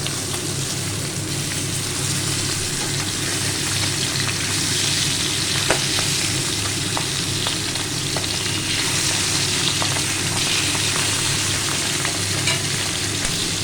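Pabda fish frying in hot oil, a dense steady sizzle with occasional pops and crackles, close and continuous throughout.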